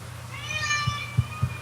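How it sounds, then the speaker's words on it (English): A small pet cat meows once in a rising, wavering cry, moderately close and clear, with a few soft thumps following afterward. "You hear my little cat down there?"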